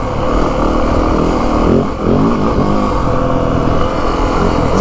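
A 2025 Yamaha WR 450F dirt bike engine roars continuously while riding off-road, loud and close, with a brief dip and rev change midway.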